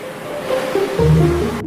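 Ocean waves wash onto a beach in a short burst of broad rushing surf, swelling louder toward the end, close and alone with no voices.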